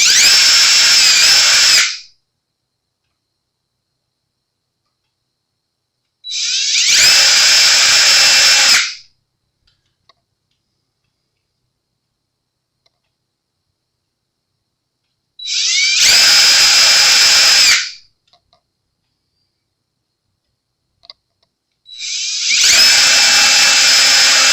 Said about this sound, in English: And be certain that when you drill,